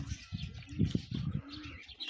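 Low, throaty coos from breeding pigeons repeat in a soft pulsing pattern, with faint chirps and rustling in the background.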